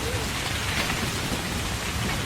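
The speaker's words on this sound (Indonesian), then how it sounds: "Hujan guys." Heavy rain pours steadily on a mountain during a storm on Gunung Gede, a dense, constant broadband hiss filling the whole moment with no break.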